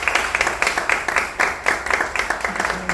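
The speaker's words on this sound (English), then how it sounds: "let's have a round of applause for Kelton Norris." Audience clapping at a live poetry slam with band, dense, overlapping hand claps at moderate volume, steady throughout with small surges, no voices standing out.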